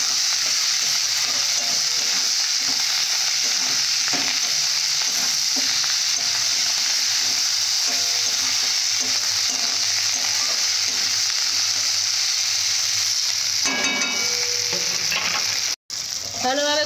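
Rohu fish curry with peas and coriander leaves sautéing in hot oil, a steady loud sizzle with irregular scraping stirs throughout, ending in a brief burst of clinks and a short gap near the end.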